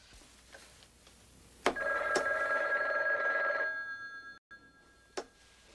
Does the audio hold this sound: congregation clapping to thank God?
no